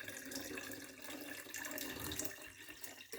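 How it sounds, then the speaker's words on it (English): Water splashes and pours continuously as sprouting seeds are rinsed and drained by hand over a sink, a close, steady running-water sound. "I just use my hand to drain off the water."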